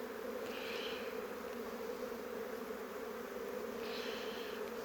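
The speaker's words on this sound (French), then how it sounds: "Là, il y a une abeille qui est ressortie." Honeybees at a hive after a swarm, giving a steady, close insect drone that keeps going the whole time, with two brief louder passes as single bees fly near. No talking.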